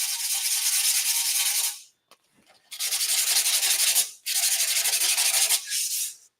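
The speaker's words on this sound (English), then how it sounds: "Very fine sandpaper." Very fine sandpaper rubbed over a metal tank surface in long, steady, close strokes, three main passes broken by short pauses, with no voices over the rasping.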